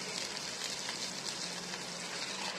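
Tomato paste sizzling in hot oil in a pan while cooking, a steady dense frying crackle that stays loud and even throughout with no talking.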